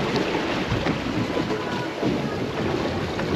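A fishing boat cruising at sea off Rottnest Island near Perth at about six to seven knots, out for tuna, gives a steady, loud wash of engine and water noise with no break.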